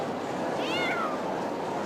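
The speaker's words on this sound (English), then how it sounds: "So as far as cats are concerned" A cat gives a single rising-and-falling meow, faint and set against a steady background hiss, with no talk over it.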